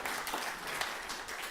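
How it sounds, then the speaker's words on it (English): Audience applause in a church service setting: a dense, steady wash of many hands clapping together, sustained at even loudness for the whole moment. "That's a clap, right?"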